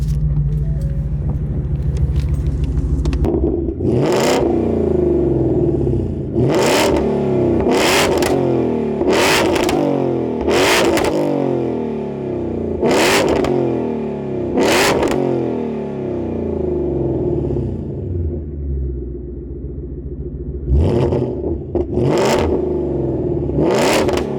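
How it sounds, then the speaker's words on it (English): A Ford Mustang engine with its catalytic converters removed idles with a deep, loud rumble, then revs hard several times in quick, spaced bursts, each climbing and dropping back to a lumpy idle. "Let's go ahead and do some revs so you guys can hear what she sounds like"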